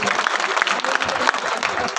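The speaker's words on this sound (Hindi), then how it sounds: "एक बार प्रकाश जी और खेम जी के लिए जोरदार ताली बजा दो" A crowd at a village political reception claps vigorously for two new party members, a loud, irregular patter of hands with voices mixed in.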